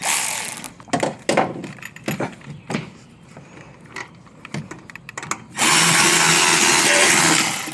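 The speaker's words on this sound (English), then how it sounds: "I'm tightening this clamp all the way down in there." A clamp is tightened on the intake of a tuned 2019 Infiniti Q60, giving scattered metallic clicks and tool ratchets, then a sustained loud whirring burst near the end.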